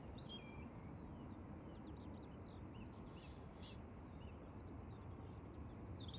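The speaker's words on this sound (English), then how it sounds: "Birds are out tweeting as well." Faint, scattered bird chirps and tweets float above a steady low rumble of background noise at Manchester Airport.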